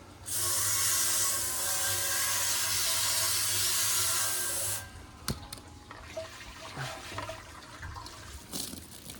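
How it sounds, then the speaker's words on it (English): Water sprays hard and steady for several seconds inside a Corny keg, then cuts off, leaving splashes, drips and light clanks of metal. "Give the inside of the keg a rinse."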